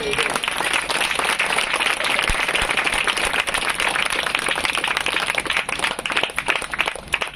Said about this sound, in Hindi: हाँ, इधर जोरदार ताली बजाएंगे।